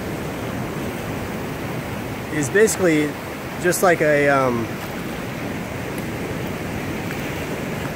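Ocean waves wash steadily onto a beach, forming a constant, even roar of surf that runs through the whole stretch without clear breaks, while a person talks briefly over it near the middle.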